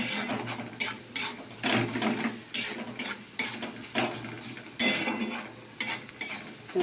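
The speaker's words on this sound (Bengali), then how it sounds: "মশলা কষাই হচ্ছে।" Masala fried in oil and stirred in a pan, with a steady run of scraping, clinking spoon strokes against the metal and a low sizzle underneath, close and fairly loud, without speech.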